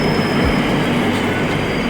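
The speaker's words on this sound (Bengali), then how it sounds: "এই আমাদের ট্রেন চলে এসছে" A metro train pulls into a station, a loud continuous rumble of wheels on rails with a faint metallic squeal, close by and steady, with no talking over it.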